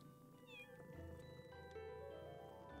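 Cat meows from the Pocket Mirror GoldenerTraum video game, a couple of rising, whiny calls over steady game music and ambience.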